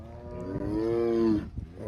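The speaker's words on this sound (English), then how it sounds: "Are you mooing because you want to be one with the cows?" A cat lets out one long, low, moo-like call. The drawn-out tone holds steady for more than a second, then breaks off. It is close and clear, with no talking.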